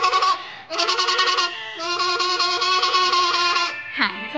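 A person's voice imitates a goat, giving a run of quavering, nasal bleats in close succession, loud and close, ending on a short rising cry.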